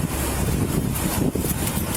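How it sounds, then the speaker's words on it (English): Gusty wind buffets the microphone in a steady, loud, broadband rumble for the whole two seconds, with a brief dip near the middle and no voices. "Windy there."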